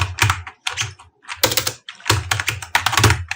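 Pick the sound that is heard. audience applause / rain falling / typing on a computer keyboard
typing on a computer keyboard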